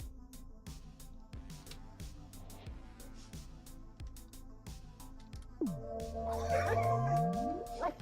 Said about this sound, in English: Oh, the dog noises are so annoying.